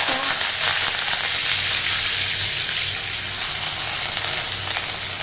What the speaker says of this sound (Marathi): सुकी मोहरी टाकते मी पहिले जिरं कढीपत्ता